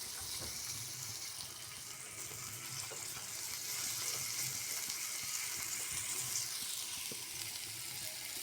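Drumstick pods sauté in a pan for a dry-style dish, giving a steady, moderately loud sizzle with faint scraping from occasional stirring throughout.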